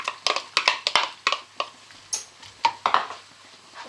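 Mushrooms go into a pan of stir-frying vegetables in chilli sauce, giving a run of close clattering knocks and scrapes of a utensil against the pan, irregular and fairly loud with no talking.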